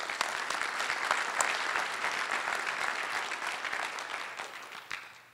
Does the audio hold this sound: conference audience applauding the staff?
yes